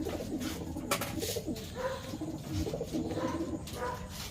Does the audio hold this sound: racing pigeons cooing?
yes